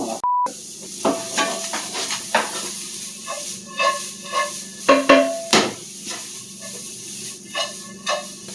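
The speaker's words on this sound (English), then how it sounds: "It's just about to brown, so I'm going to add in the diced onions here." Diced onions hit a pan of browning meat for chili, sending up a steady sizzle with repeated scraping and stirring clatter, close and loud, plus a brief high tone near the start.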